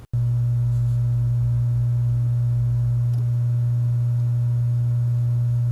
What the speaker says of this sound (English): That earlier was the sound of the vibration caused by this external hard drive